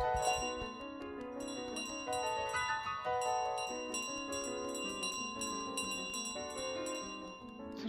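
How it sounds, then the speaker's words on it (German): In Untitled Goose Game, a bright bell rings again and again in quick, uneven strikes, its clear tones layered and ringing on, loud and close for the whole stretch with no talk over it. "Verschwinde, es ist meine Glocke."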